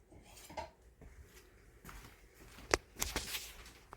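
Knife clinking against a baking dish while slicing into a taco lasagna, a few scattered scrapes and taps with one sharper click near the end, close by and fairly quiet.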